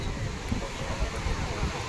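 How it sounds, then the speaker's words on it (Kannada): Strong wind roars across the microphone at a crowded beach at Velankanni, a steady dense rush with faint voices and surf blended underneath. "ಇಲ್ಲಿ ತುಂಬ ಕ್ರೌಡ್ ಇದೆ ಹಾಗೂ ತುಂಬ ಗಾಳಿ ಕೂಡ ಇದೆ"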